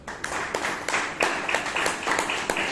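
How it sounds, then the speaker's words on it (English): A small audience at a Toastmasters meeting in Bangalore claps in a steady, moderate round of applause, individual claps distinct and fairly close, with faint talk underneath. "So please give Chaitra a big round of applause."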